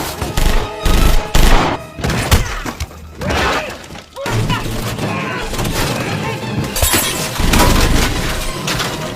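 Gunfire and shattering from a shootout in the film Die Hard, with loud bursts of shots and breaking debris, a frame crashing down, and a dense, busy mix running throughout.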